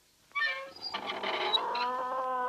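Cartoon kitten meowing repeatedly in a bright, high, harmonic voice, fairly close and unbroken, layered over soft background music with no speech.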